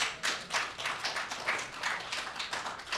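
An audience at a hacker conference talk on electromagnetic pulses claps steadily and fairly faintly, sounding like a room-wide round of applause of moderate density.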